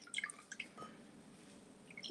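Juice squeezed from a packet of spinach, a few faint drips and small wet squishes scattered over a couple of seconds, quiet and close with no talking.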